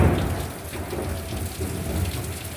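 Rain pours down outside a window while a deep rumble of thunder rolls underneath, loud and continuous over a couple of seconds without any talking.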